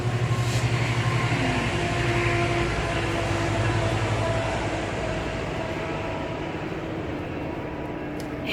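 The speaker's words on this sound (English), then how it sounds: "Train's coming." A train rumbles past a vegetable garden, a steady loud roar of rolling wheels and carriages that slowly fades a little as it goes by, with no talking over it.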